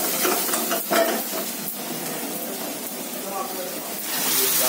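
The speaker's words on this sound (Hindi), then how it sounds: "ये हमारी दाल फ्राई रेडी हो रही है।" Arhar (toor) dal fry with tomatoes and turmeric sizzles loudly and steadily in a pan, with repeated stirring strokes and scrapes breaking through the continuous hiss.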